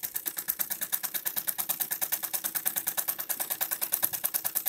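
A sewing machine stitches fabric with lining in a fast, even rhythm of needle strokes, about ten per second, soft and close with no speech.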